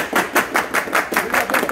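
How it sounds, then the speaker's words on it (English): A group at a martial arts school claps in unison, a steady rhythmic beat of about nine sharp claps, loud and close, with no talking over it. "Let's clap it up"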